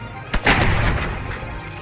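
Cannon artillery fire in the video game Expeditions: Conquistador, a sharp crack followed by a heavy booming blast that rolls out into a fading rumble over about a second and a half, loud and with no talk.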